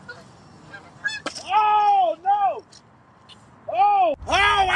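A goose gives a run of loud, nasal honks close by, several separate calls with short pauses between them and a final harsher blast at the end.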